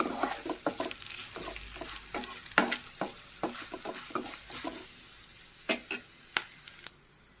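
Egg with turmeric is stirred in oil in a pan, a soft sizzle under a run of close, irregular spoon scrapes and clacks that thin out toward the end, with no one talking.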